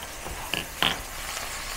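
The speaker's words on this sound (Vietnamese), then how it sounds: "Cái này là mình phải xào cho thiệt nhanh nha." Palm weevil larvae stir-fried quickly in a pan with fish sauce, oyster sauce and sugar, giving a faint, steady sizzle with a couple of brief scraping stirs.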